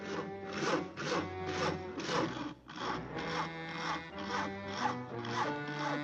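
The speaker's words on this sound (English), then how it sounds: "Isn't that your house Harry is sawing on?" A saw rasps through wood in steady, rhythmic back-and-forth strokes, close and continuous, with no talking.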